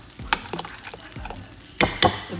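Akara bean batter dropped into hot oil makes sharp crackling bursts and soft bubbling, with several distinct spatters close by and no talking.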